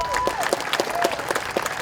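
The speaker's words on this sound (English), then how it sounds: "let's give a big round of applause for our four women here." Audience applause for four Olympic medal-winning women, brisk steady clapping from a crowd heard briefly at moderate loudness with a voice speaking over it.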